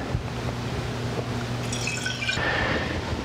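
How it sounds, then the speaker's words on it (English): Roughly 200 ml of water poured from a graduated cylinder into a lab flask for a wine acidity titration, a steady close liquid trickle and splash rising in pitch as the flask fills, with no speech. "I have put 200 mils of water in this graduated cylinder. I'm going to add that to my flask."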